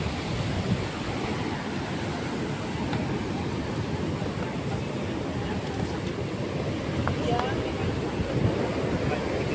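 Ocean waves pound sharp, sturdy coral rocks at Menganti beach, forming a steady, dense wash of surf with wind buffeting the microphone throughout and no clear voices.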